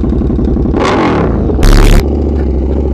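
A Triumph Scrambler 400X motorcycle engine runs loud and close, with a rising rev burst in the middle and a brief harsh rasp before it settles back to a steady throb.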